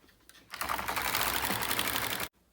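On a double bed knitting machine, the carriage makes a single pass across the needle bed during round knitting. It sounds like a close, dense mechanical clatter that lasts about two seconds and then stops abruptly.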